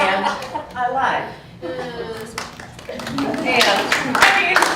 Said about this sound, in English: you don't have to clap for me